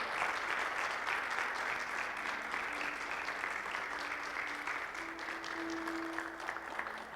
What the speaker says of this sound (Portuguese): Dá uma linda salva de palmas ao Senhor Jesus